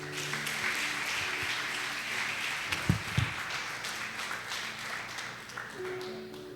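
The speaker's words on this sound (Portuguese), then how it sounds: "Vamos aplaudir o Senhor bem forte." A church congregation applauding during a service, a broad, continuous wash of clapping at moderate level with a couple of sharper knocks near the middle and a soft held tone beneath.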